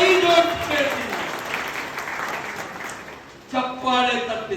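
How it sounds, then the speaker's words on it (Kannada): An audience claps at a BJP election campaign rally: a sustained wash of applause rises between stretches of an amplified speaker's voice, swelling again as he resumes. "ಚಪ್ಪಾಳೆ ತಪ್ಪಿದ್ರೆ ಆಗೋದಿಲ್ಲ"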